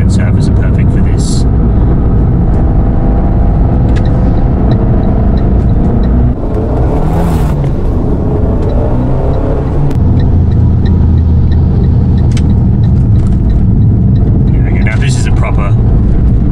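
A car drives along a rough, uneven Sydney back road with a loud, steady rumble of engine and road noise, while someone talks over it throughout.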